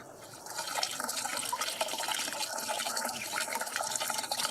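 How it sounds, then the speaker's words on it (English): Water is poured through the interior of a carved wooden horn, giving a steady, close gurgling and splashing flow that lasts throughout with no talking. "the craftsman pours water through the interior of the horn"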